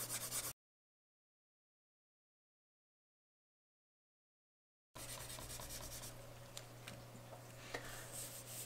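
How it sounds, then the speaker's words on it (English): Side of a graphite pencil shading across paper in an art lesson, a soft continuous scratchy rubbing after a long silent gap, close and quiet with no talk. "side of my pencil and I'm just going to cover the whole thing in graphite"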